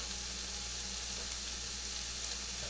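Mushrooms sizzle and fry steadily in a pan for a grilled vegetable wrap, a continuous close hiss with no talking.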